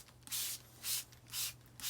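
Dye is sprayed onto fabric during galaxy-style tie dyeing, heard as repeated close hissing bursts from a spray bottle, each about a quarter second long, with no talking.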